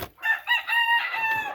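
A pure red quill rooster kept in an outdoor cage in Michigan crows close by, one drawn-out, loud, harmonic call that rises in short bursts and then holds, heard alone.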